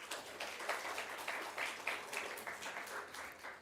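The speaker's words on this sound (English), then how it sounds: "A big round of applause for all of you." Faint, sparse clapping closing a round of applause at a webinar, a few hands beating out a loose, steady rhythm at low volume.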